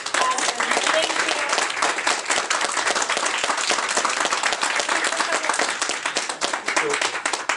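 A full-house audience at a film screening Q&A breaks into sustained, loud applause, dense clapping filling the room throughout with a faint murmur of voices beneath.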